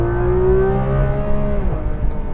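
A Porsche 911 GT3 RS engine revs hard as the car accelerates out of a roundabout. It gives a loud, close, rising howl that holds, then drops sharply as the driver shifts.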